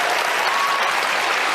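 A town hall audience applauds in dense, steady clapping that stays loud and even throughout, with no pauses.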